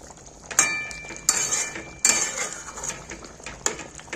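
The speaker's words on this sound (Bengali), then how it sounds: "একটু হালকা হাতে নেড়ে দিলাম।" A spoon knocks and scrapes against a metal pan while gently stirring a thick jackfruit curry with ghee, producing four sharp clinking strikes spaced roughly evenly, close and distinct with light scraping between them.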